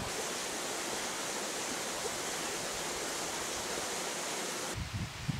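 Water drains from a tall beaver dam into a small meadow, a steady broad rushing hiss that continues without a break, with a low, uneven splashing coming in near the end.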